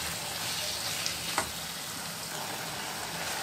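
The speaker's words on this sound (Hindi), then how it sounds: "तेज फ्लेम पे इसको भूनेंगे, थोड़ा सा ये पकना शुरू हो जाए।" Keema frying on high flame in a pan, a steady broadband sizzle throughout with one brief clink near the middle, close and even.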